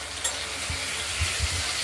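Potatoes frying with turmeric and salt in a pan give a steady close sizzle, with a few soft knocks from stirring spread through the short stretch.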